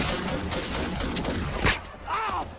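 Film gunfire from Taliban fighters in an Afghanistan battle scene: scattered bursts and sharp shots amid a loud dense mix, with a voice briefly audible near the end.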